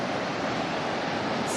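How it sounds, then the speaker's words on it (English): River water roars through the Aratiatia Rapids in New Zealand after a dam release, a steady, dense, close rushing wash with no breaks. "So then the water is rushing by."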